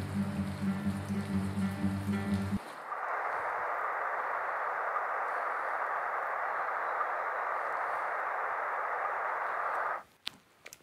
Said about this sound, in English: it can rain and rain for days and days, like it's doing right now.